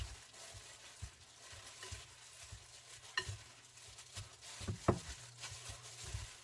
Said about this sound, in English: you got to knead it together until it forms a ball